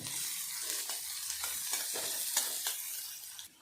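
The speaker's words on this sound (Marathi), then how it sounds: "इथे आपण आता कांदा छानपैकी सोनेरी करून घेणार आहोत" Onion frying in hot oil with mustard seeds in a pan for a brinjal (vanga) bhaji, a steady broadband sizzle with occasional stirring scrapes, close and continuous, no voices.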